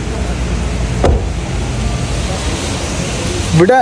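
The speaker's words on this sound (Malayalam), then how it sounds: "എറണാകുളം ഇവിടെ എത്തിയപ്പോൾ നല്ല മഴയുണ്ട്" Steady, dense rain noise in Ernakulam fills the background with a constant rushing hiss, loud and close, with brief thumps and a short tonal sweep near the end.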